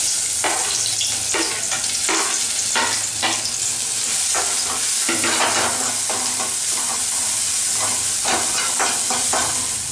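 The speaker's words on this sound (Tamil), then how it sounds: "கடாயில் எண்ணெயை ஊற்றி இப்போ எண்ணெய் நல்லா சூடாக உடனே நம்ம வந்து வெங்காயத்தை சேர்த்துறோம்." Chopped onion sizzling and frying in hot oil in a kadai for street-style kothu parotta, a loud steady crackle with repeated scraping stirs throughout and no voices.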